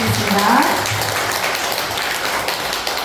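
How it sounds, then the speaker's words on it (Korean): Applause from a congregation at a Buddhist dharma gathering after a lecture by a professor, a short burst of clapping that starts with a faint voice underneath and then continues evenly. "목견자 교수님께 다시 한번 큰 박수 부탁드리겠습니다."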